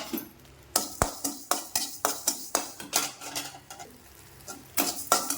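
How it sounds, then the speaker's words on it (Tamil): Salt being dry-roasted in a pan for moringa leaf powder gives steady, rhythmic scraping and clinking strokes of a utensil against the pan, roughly two per second, close and moderately loud, with a brief pause midway. "இப்போ கொஞ்சம் உப்பு அந்த உப்பையும் போட்டு"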